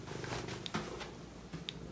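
A cat purrs close up, a faint continuous rumbling purr with a soft rhythmic pulse, heard alone in a quiet room.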